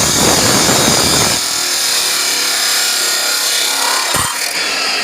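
A power saw cuts a 2-foot piece set up with a jig in a welding workshop, giving a loud, continuous grinding whine with a rougher, louder start that then settles into a steady cut.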